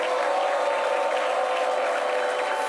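A studio audience at a talk show applauds steadily and fairly loudly, a dense, even patter of clapping that sustains throughout.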